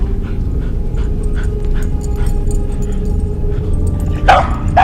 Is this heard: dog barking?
yes